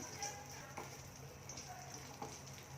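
Cashew nuts fry in ghee for kesari, a soft, steady sizzle with faint crackles and occasional stirring, quiet and continuous.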